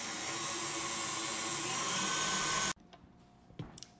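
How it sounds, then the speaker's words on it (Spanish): An electric hand mixer beats red buttercream frosting, a steady loud whirring drone that cuts off abruptly near the end, followed by a few faint clinks and handling noises. "Vamos a batir."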